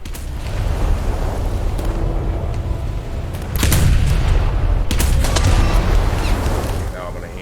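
Heavy naval guns of a warship in War Thunder firing in deep, rolling booms, several shots a few seconds apart over a constant low rumble, with someone talking throughout.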